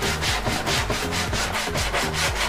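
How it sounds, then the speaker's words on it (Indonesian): Plywood hull of a handmade RC yacht being sanded by hand, with steady rhythmic back-and-forth rasping strokes, close and loud, with no talking. "Kita amplas saja ini sampai betul-betul mengikuti ya, dan presisi pada bibir body ya teman-teman"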